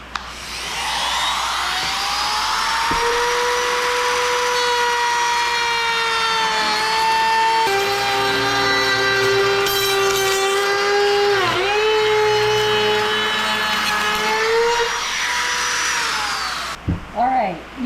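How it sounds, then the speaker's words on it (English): A router cuts a channel into a wood frame for a shaker door, a loud, steady high-pitched whine that spins up, holds for over ten seconds with a brief dip midway, then winds down. "let's route a channel."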